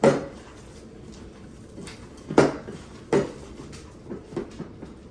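Shrimp and scallop stuffing being mixed in a bowl for stuffed lobster, heard as a few sharp clinks and scrapes of utensil against bowl, spaced irregularly, close and moderately loud with no talking.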